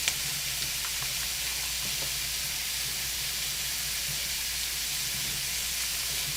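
Steady, loud sizzling and hissing of food being stir-fried in a pan for seaweed soup in a home kitchen, continuous and close with no talking.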